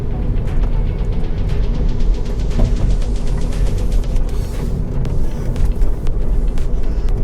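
A Honda Civic e:HEV hybrid car accelerating hard around a track, its engine note rising steadily and loud throughout, with no one talking.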